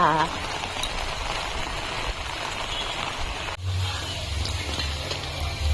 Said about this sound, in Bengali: দেখো পুরা বৃষ্টি শুরু হয়ে গেছে এখন আমরা বৃষ্টিতে ভিজে ভিজে যাবো